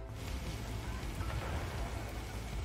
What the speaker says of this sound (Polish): gdzie należy wsłuchać się w szum deszczu